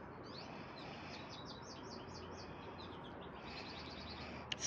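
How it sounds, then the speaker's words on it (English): Small birds chirp and trill in quick repeated phrases, faint and distant against a steady outdoor hiss. "So nice to hear birds singing in green grass after such a long, long winter."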